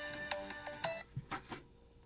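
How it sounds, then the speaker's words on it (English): A phone rings with an incoming call, a short melodic ringtone of a few bright tones that then fades. It is faint, and no one speaks over it. "getting a phone call"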